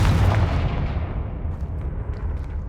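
Explosive spell blasts in the Hogwarts Legacy video game: a heavy, booming burst with a rumbling low-end tail that rolls on for a couple of seconds, loud and close, with no voices.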